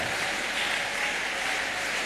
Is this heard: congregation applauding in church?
yes